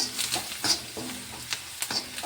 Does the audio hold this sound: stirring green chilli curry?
yes